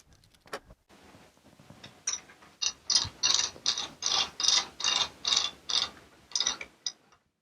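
Ratcheting clicks from a Handi Quilter Forte longarm quilting frame as the quilt is rolled forward, a run of about a dozen loud, evenly spaced mechanical clacks, close up, with no talking.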